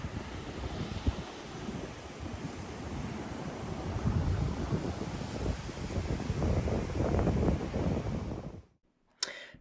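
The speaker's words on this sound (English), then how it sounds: "You can see the stormy sky and the waves crashing here." Ocean surf rolls and crashes under a stormy sky as strong wind buffets the microphone in a continuous roar, building louder toward the end before cutting off abruptly.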